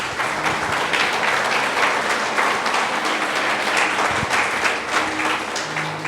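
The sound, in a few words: congregation applause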